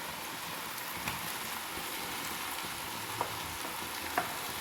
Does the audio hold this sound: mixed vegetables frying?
yes